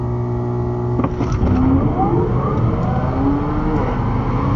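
A built 900-horsepower Corvette Z06 lined up against a Kia Stinger in a street race, engines droning and revving steadily under the tone of a siren, with no talk.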